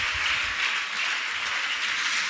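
A church congregation applauds in praise, a dense, steady wash of clapping with no break from start to end.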